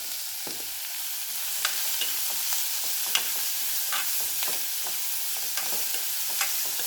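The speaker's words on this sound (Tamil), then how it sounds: "இது நல்லா வெங்காயம் வதங்குற வரைக்கும் காமிக்கிறேன்" Onions sautéing in a pan with a pinch of salt, a soft continuous sizzle broken by occasional scrapes of a stirring spoon, faint and steady with no talk.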